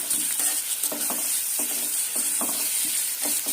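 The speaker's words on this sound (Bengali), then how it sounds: "মশলাটা দিয়ে কষিয়ে নিচ্ছি ভালোভাবে এবার আলুটা দিয়ে দিলাম" Potatoes fry in hot oil with spices and onion, a constant bright sizzle broken by rhythmic scraping stirs roughly every half second, close and with no voices.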